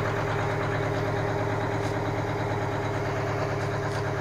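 An Aerodyne cabover truck engine, with mufflers and two exhaust stacks, idles steadily with a low, even rumble, moderately loud and unchanging for the whole stretch.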